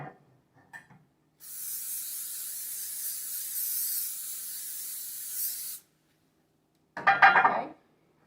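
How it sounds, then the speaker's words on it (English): A few soft taps, then one long steady hiss of cooking spray onto a pan for about four seconds, followed by a brief clatter. "I'm going to go ahead and spray my pan over here"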